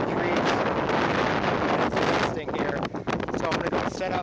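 Strong northwest wind buffets the microphone outdoors at a test site, a loud continuous broadband roar with gusty swells and dips throughout.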